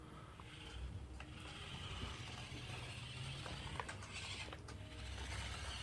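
A Syma X9 toy flying car drives along the ground in its car mode, giving a steady faint whirring of small motors and gears with occasional soft clicks, continuous and unbroken with no voices.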